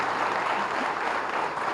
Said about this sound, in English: And can we have a big, big round of applause once again?